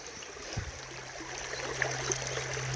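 Water running through a gold sluice during a dig in Warrandyte mud, a steady, soft trickling and gurgling flow with a faint, even hiss throughout and no voices.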